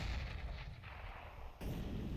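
A grenade explosion in Counter-Strike on the de_train map: a heavy, booming blast with rumbling low end that holds through the clip, followed by a second sharp burst near the end, with no talk over it.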